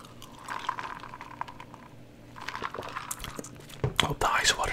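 Ice water pours and trickles nearby, with ice cubes clinking and rattling, fairly soft and close.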